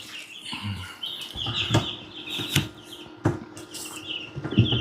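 Chickens cluck and chirp in short scattered calls, with high peeping chicks and occasional sharp clicks over a soft background.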